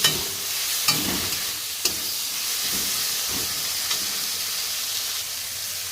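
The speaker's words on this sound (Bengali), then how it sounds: "এবারে দিয়ে দেবো হলুদ। খুব ভালোভাবে নাড়িয়ে নেব।" Small fish fry in a pan with salt and turmeric as a spoon stirs them, a steady close sizzle broken by a few sharp scraping knocks against the pan.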